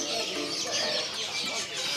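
Ornamental chickens at a kiosk selling ornamental pigeons and chickens cluck and chatter steadily in a dense, close layer with no pauses and no talk.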